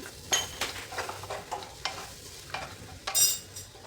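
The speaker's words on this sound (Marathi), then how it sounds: "तर हे आलं लसूण पेस्ट परतलेली आहे त्यामध्ये घालायची हळद लाल मिरची पावडर" Ginger-garlic paste with turmeric, red chili powder and sambar masala sizzling in a pan, with rhythmic stirring clinks of a spoon against metal, close and steady over a soft frying hiss.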